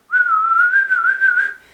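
A person whistles one steady, clear note held for well over a second, close and loud, with a slight wavering pitch before it fades out.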